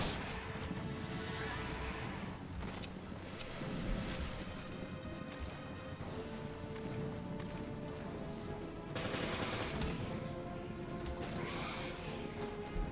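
Gunfire in Resident Evil: Revelations aboard a ship, several sharp shots spread across the span over a constant rumbling ambience of sea and engine noise.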